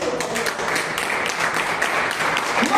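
A church congregation applauds during a sermon, a steady dense wash of many hands clapping at once that stays loud and even throughout.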